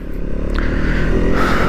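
Bajaj Pulsar NS200 (2024) motorcycle engine and exhaust riding on an open road, with a loud, steady droning hum and a slight rise in revs toward the end.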